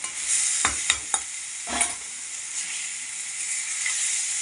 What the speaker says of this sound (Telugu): వేయిపోయి క్యాబేజ్ వేసేస్తాం దీంతో పాటు పెసరపప్పు కూడా వేసేయాలి